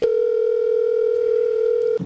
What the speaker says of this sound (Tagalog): Nagre-ring na.